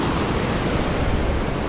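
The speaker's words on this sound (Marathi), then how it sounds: "कसं लाटा आहे खतरनाक इकडे." Surf at Gomti Ghat, Dwarka churns in a dense, continuous roar of breaking sea waves, loud and near with constant wind-like hiss and no talking.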